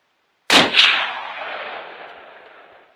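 A single loud, close rifle shot, fired while hunting pigs and possums in New Zealand bush, with a second crack right behind it and a long rolling echo fading over a couple of seconds.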